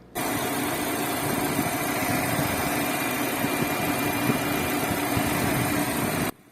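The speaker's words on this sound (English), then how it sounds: "because this engine sounds so unrefined up close, I would swear that it took a Isuzu D-Max common rail diesel engine" A 2023 MG HS petrol engine runs up close, with a steady, coarse, buzzing drone that holds constant before cutting off abruptly.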